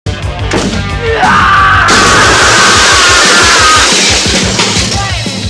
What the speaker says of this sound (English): That is a powerful shriek.